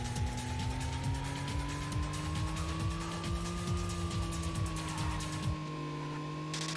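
A car engine fitted with new parts in the street-racing game Racing Lagoon holds a steady, slowly rising hum with a whining overtone, off throttle and cruising, and the sound cuts away near the end.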